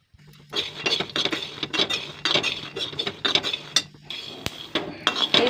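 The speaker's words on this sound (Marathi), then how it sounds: "हे दोन वाट्या भाजून घेत आहे मी" Peanuts roast dry in a metal pan while a spatula scrapes and tosses them, giving a busy, near run of rattles, clinks and scraping strokes.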